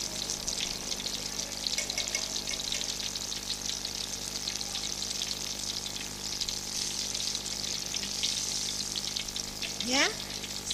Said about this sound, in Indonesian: Kita goreng dia sampai warnanya golden brown ya, sampai dia warnanya kuning kecoklatan.